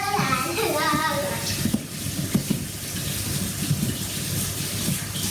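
A tap runs steadily while something is washed in a home kitchen, a continuous watery hiss beneath the chatter of an adult and a child.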